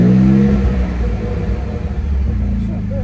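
A 2024 Ford Ranger with a turbo engine and a Flowmaster 40 Series exhaust gives a short low rumbling rev, loud and close, that eases off after half a second and then settles into a steady idle.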